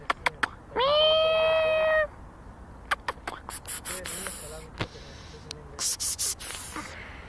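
A street cat gives one clear, drawn-out meow close by. Quieter scuffs, taps and rustles follow at intervals, with no speech.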